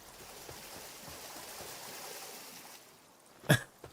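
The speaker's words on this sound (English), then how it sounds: "I don't know what the water sound is all about." Running water in a video game, a soft steady stream-like trickle that holds faintly for a few seconds, then a brief louder knock near the end.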